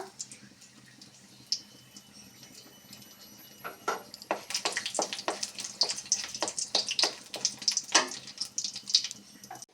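Bay leaves and dried red chillies hit hot oil in a pan: quiet at first, then rising into sharp crackling and spitting pops that come thick and fast for several seconds.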